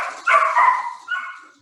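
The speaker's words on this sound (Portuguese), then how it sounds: "os cachorros saíram correndo" Dogs barking in the background of an online webinar, a couple of loud, drawn-out yelping barks close together with a fainter one after, and no talk over them.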